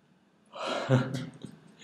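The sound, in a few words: yawning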